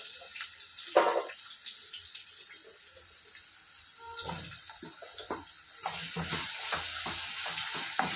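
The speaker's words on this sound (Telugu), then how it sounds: "ఆయిల్లోనే ఫ్రై చేసుకోవాలి." Raw banana and onions fry in oil, giving a steady hiss and sizzle with a few louder spits and crackles. There is no talk, and the frying runs throughout.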